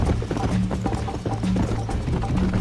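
Horse hooves gallop in a steady rapid clip-clop rhythm during a race in the Red Dead Redemption video game, loud and continuous with a faint mechanical rattle alongside.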